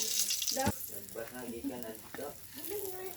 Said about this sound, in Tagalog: Prito og talong with egg